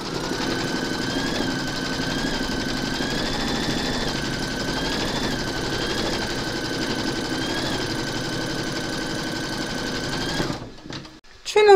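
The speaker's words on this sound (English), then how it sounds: "Pop your hoop into your machine and stitch round number two to secure it." Embroidery machine stitching through batting in the hoop on a large whimsical Santa project, a loud steady mechanical whir with a rhythmic rising and falling tone throughout, ending with brief handling noise.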